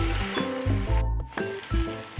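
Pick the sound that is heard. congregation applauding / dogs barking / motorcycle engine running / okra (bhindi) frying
okra (bhindi) frying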